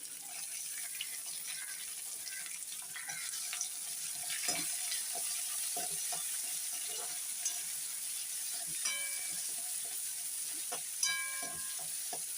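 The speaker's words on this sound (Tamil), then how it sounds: "பெரிய ஒரு ஆனியன் அதை வந்து நம்ம சேர்த்து வதக்கணும்" Onion sautéing in a pan for a bitter gourd curry, a soft steady sizzle with occasional light stirring clinks and taps, fairly faint and heard alone.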